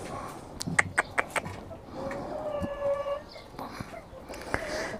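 Chickens vocalizing nearby, with a few sharp clucks followed by a drawn-out tonal call and softer calls afterward, no talking.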